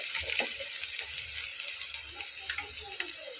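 Chopped onion frying in a pan while being stirred, a steady sizzle with scraping spoon strokes against the pan, close and continuous with no one talking.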